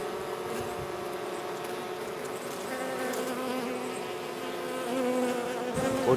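Bees buzz around a queen cage near a hive, a continuous close droning hum with wavering pitch as individual insects move about, steady and moderately loud with no talking.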